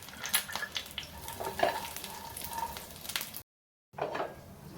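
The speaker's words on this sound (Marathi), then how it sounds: "परत अर्धा चमचा तूप घालून घेते आणि मनुका आणि खजूर आहे तो यामध्ये तळून घेते." Raisins and dates fry in half a spoon of ghee in a pan for fenugreek laddus, giving a soft sizzle with a spoon stirring and scraping, then a brief silence and more sizzling.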